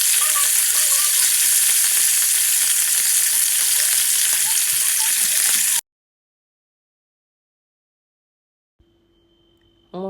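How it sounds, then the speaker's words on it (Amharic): Steak taken straight from the fridge sizzles in a smoking-hot oiled pan with a loud, dense, steady crackle that stops abruptly partway through, followed by near silence and a few faint clinks. "አሁን ስጋውን ከፍሪጅ ውስጥ አውጥቼ መጥበስ ጀምራለሁ።"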